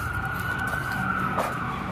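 A police car siren wails in a steady, fairly loud tone that bends briefly near the end, heard against constant street noise with no one talking.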